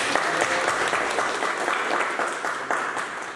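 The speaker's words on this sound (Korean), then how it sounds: "다시 한번 박수 부탁드립니다" An audience at a local residents' public forum on crane protection in Yeoncheon gives a sustained round of applause, a dense, even clapping that fades slightly toward the end.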